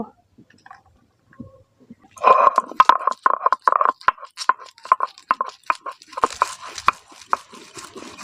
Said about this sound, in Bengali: এখন রসুনটা বেটে নেব